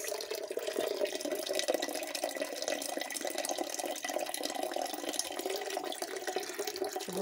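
Tap water runs in a steady, moderately loud stream, filling a pot to add to rice, with no talk over it.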